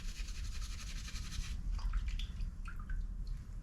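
A loose carburetor shaft part is quickly washed in water in a workshop, giving quiet sloshing and scattered drips against a low background hum.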